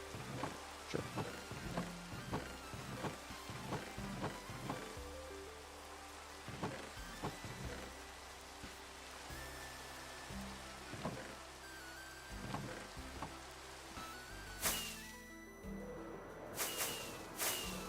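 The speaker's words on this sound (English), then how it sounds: "Can't believe it's raining again." Video game rain in Echocraft, a continuous hissing patter of drops with scattered sharper taps and brief bursts of louder noise near the end.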